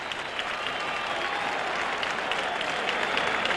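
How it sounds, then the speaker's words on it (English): A stadium crowd at a 1979 Dallas Cowboys vs New York Giants football game applauds the Giants after the game, a broad steady wash of distant clapping and crowd noise that holds throughout. "the crowd still applauds the effort by the Giants"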